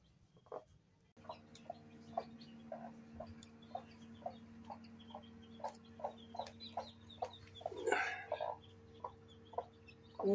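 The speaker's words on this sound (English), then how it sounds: "Oh, we got six. Six babies." Baby chicks and hens cluck in a steady series of short, evenly spaced calls, with a louder burst of flapping or scuffling partway through and a constant low hum underneath.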